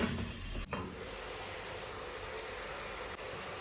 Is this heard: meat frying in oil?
yes